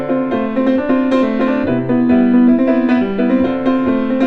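Piano playing the Super Mario Brothers star music with a samba-like feel: a busy, rhythmic stream of chords and a repeating bass pattern, loud and close with no talking.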